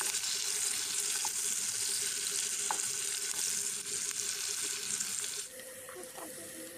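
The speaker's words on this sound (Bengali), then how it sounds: "পেঁয়াজটা দিয়ে ভালোভাবে কষিয়ে নিতে হবে।" Two large chopped onions fry in hot oil with a continuous, fairly soft hiss that thins out near the end, with faint intermittent knocks in the background.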